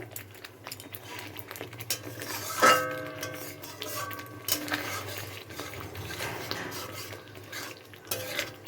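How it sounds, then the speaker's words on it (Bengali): Spatula scraping and stirring coriander powder spice mix in a pan for an aloo dum with coriander leaf and green chili, with soft sizzle and a sharp metallic clink partway through. "এই ধনের গুঁড়োটা এর সঙ্গে ভালো করে আর একটু কষিয়ে নেব"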